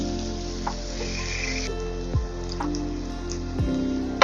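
Onions fry slowly over a low flame for egg and potato curry, giving a steady soft sizzle with a few faint clicks and taps from the pan, close and alone.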